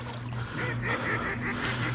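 Canada geese honking overhead during a waterfowl hunt: a quick series of nasal, repeated honks from a few birds at moderate distance, over a steady low background hum.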